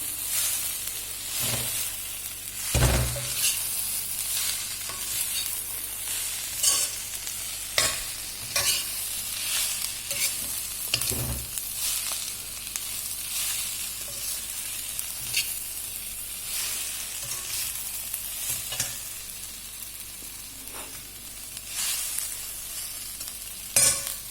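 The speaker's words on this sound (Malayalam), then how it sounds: "ചപ്പാത്തി ഒന്ന് റോസ്റ്റ് ചെയ്യും" Chapati pieces roast in a pan for chilli chapati, giving a steady close sizzle broken by repeated scraping and stirring strokes throughout, with no talk.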